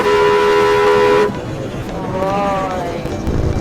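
A car horn blares in one long, loud sustained honk in traffic, then cuts off, followed by a fainter, wavering horn tone further away while road noise continues.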